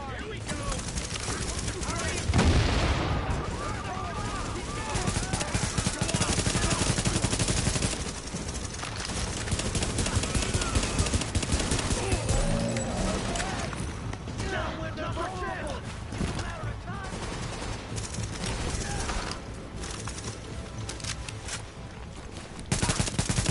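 Gunfire from The Division video game, loud bursts of shots and rapid automatic fire running throughout amid game sounds and dense background noise, with voices speaking over it.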